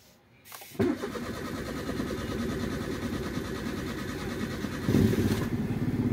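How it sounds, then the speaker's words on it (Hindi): A Maruti A-Star with a camshaft sensor fault cranks on its starter motor for a long stretch, a steady, close, rhythmic churning that runs for over five seconds without catching. "जैसे कि आपने देखा बहुत लंबा सेल्फ ले रही है गाड़ी"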